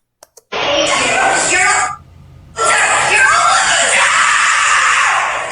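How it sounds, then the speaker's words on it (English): A woman screams loudly and shrilly at Fort Lauderdale Airport: two short sharp sounds, then a long piercing scream, a short breath-like dip, and another sustained raw scream. "Screaming like a psychopath is not attractive."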